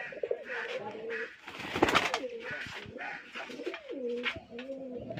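White pigeons with black beaks coo repeatedly at close range, with soft rolling calls rising and falling over several seconds amid a busy loft background.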